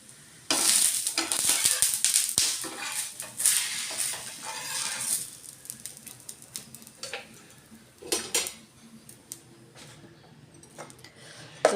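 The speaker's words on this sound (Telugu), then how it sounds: "ఇప్పుడు దోశ వేసుకుంటున్నాను." Dosa batter sizzling on a hot pan, heard as a close frying hiss with scraping and clinks of a utensil against the pan, loud at first and then fading to quieter sizzling with a few sharp knocks.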